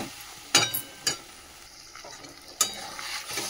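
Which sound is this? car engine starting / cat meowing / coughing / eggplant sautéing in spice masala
eggplant sautéing in spice masala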